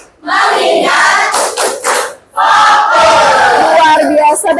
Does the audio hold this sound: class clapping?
yes